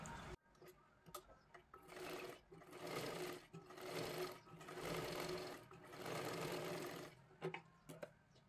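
A sewing machine stitches blouse fabric in several steady whirring runs a few seconds long, separated by brief pauses, fairly quiet and close, with no talking.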